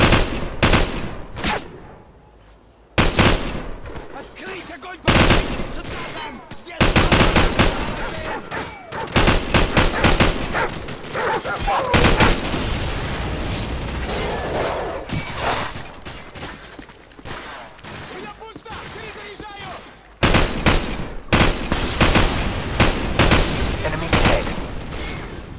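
Dense, loud covering gunfire fills a Call of Duty Modern Warfare campaign battle, with rapid machine-gun bursts and shots repeating almost without pause and brief gaps between volleys; voices come through faintly.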